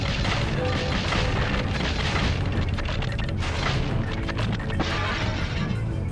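Green rockets exploding in the video game Spyro 3: a loud, dense barrage of booming blasts and crashes that runs without a break for the whole stretch.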